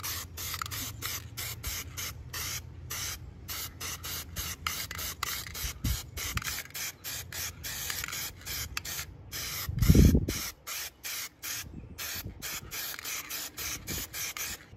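Spray paint hisses through a stencil as letters are painted on a junk removal trailer, in rapid, evenly repeated short bursts, close and steady, with no talking.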